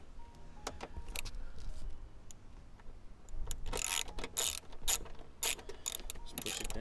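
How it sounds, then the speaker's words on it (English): Ratchet wrench loosening a bolt on a Hyundai Veloster N carbon fiber vented fender, a run of sharp clicking bursts that grows louder and more rapid partway through, heard close with a low background rumble. "we're going to undo this bolt"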